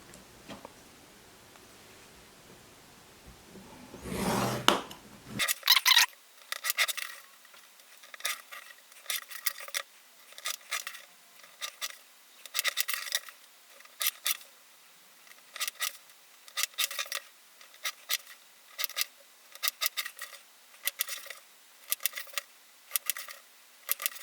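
Repeated short scraping strokes from scoring fold lines on a handmade DIY packaging box, coming in a steady rhythm of close, dry bursts after a brief louder rustle at the start.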